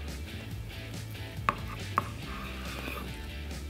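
A knife works through a slab of homemade buckboard bacon, squaring up the end with two sharp cuts that land about half a second apart over a steady low background hum.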